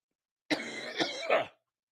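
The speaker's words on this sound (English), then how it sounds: "Followed by a cough, literally" A single harsh, raspy cough of about one second breaks out of silence, close and fairly loud, then stops.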